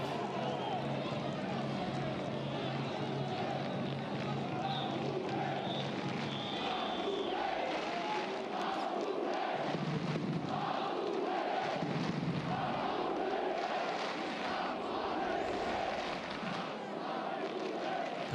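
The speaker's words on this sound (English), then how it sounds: "Fans cheering" Football fans in a stadium at the SD Amorebieta versus Girona FC match roar and chant as a broad, continuous crowd swell, with a commentator's voice on top.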